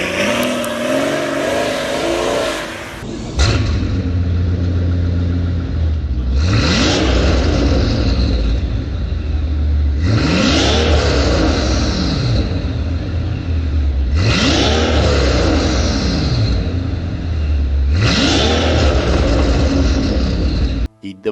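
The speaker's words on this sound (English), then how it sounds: "And finally, we have the Big Daddy engine, 6-liter twin-turbo V12 from AMG." Mercedes CL 63/CL65 AMG coupe with a 6-liter twin-turbo V12 revving hard, four loud sweeping blips that rise and fall in pitch, each separated by a steady deep idle, close to the car.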